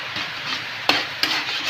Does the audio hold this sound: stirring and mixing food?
yes